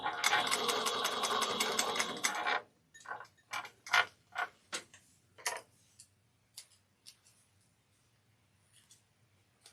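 A sewing machine back-stitches a quarter-inch seam to tack down a bag panel, whirring in one dense, steady burst for a few seconds, then giving a loose string of sharp, separate mechanical clicks and ticks.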